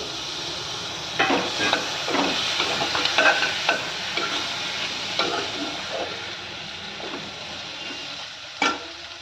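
Small pieces of a medium tomato sizzling in a hot pan with chilli powder for a Hyderabadi goat intestine curry, hissing steadily while a spoon stirs in repeated scraping bursts, close by.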